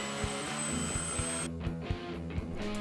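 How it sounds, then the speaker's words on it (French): An electric drill whirs into wood close by while removing material from a Rickenbacker 4000-style electric guitar body, a steady motor drone with repeated bursts as the bit bites and pulls back. "J'enlève un peu de gras à la perceuse."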